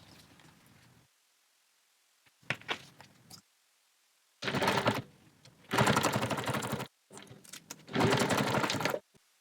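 Sewing machine top stitching the single folded slip pocket on a mini planner, running in several loud bursts of rapid stitching with pauses between them.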